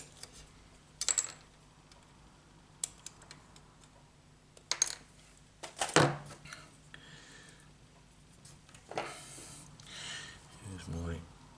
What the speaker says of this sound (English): Just nip these 2 bits off.